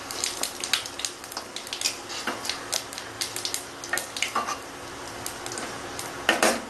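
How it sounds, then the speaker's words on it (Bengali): Panch phoron spices spluttering in a little hot oil in a pan, small popping crackles scattered irregularly throughout with occasional clinks of utensils, close and fairly quiet, with no talk. "পাঁচফোড়নটা ফুটে গেছে লালও হয়ে গেছে"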